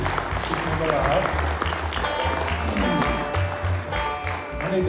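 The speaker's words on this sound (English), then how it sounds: "Y'all give them a big round of applause" A crowd at a bluegrass band concert claps and cheers steadily throughout, dense applause with a voice talking over it.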